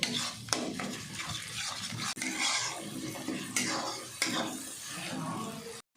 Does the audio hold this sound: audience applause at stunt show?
no